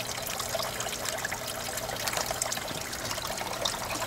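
Water trickling and bubbling in a winterized hot tub aquaponics system with ice on the surface, a soft continuous dribble heard close up and alone.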